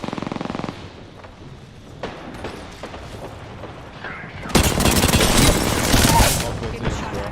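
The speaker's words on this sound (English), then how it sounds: "Getting shot at." Gunfire in the video game Apex Legends, with scattered shots that give way to a loud, dense burst of rapid automatic fire. A voice talks over part of it.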